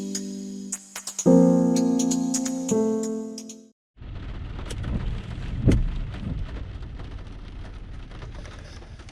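Cold rain at a lake on a 36-degree day, a steady close hiss of drops filling the second half after a few seconds of sustained tonal sound, with no talking.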